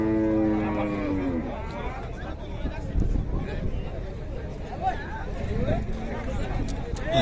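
Cattle moo at a livestock fair in Buíque, Pernambuco, Brazil: a loud, close drawn-out moo opens, followed by more lowing amid the general hubbub and chatter of a crowd.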